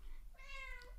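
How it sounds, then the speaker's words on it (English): A house cat gives one short, soft meow, faint and close, in an otherwise quiet indoor room. "Sorry, that's my cat coming to say hello."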